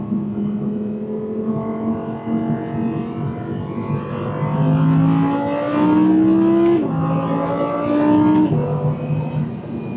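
An Audi R8 V10 Performance engine revs high and climbs through gears, then blips sharply on downshifts, loud and close, harmonics rising and dropping in pitch.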